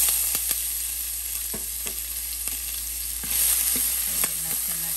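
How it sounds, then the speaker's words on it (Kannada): Onion, curry leaves, ginger and green chili frying in oil for upma, with a steady close sizzle broken by several sharp clicks and scrapes of a spatula stirring the pan. "ಇದನ್ನು ಚೆನ್ನಾಗಿ ಸ್ವಲ್ಪ ಹುರಿಸ್ಕೊಳ್ಳೋಣ"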